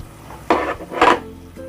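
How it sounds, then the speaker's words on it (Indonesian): Meatball mixture for bistik bola bola daging stirred in a pan with sizzling, two loud scraping stir strokes close up over a soft frying hiss. "Sambil saya aduk-aduk ya."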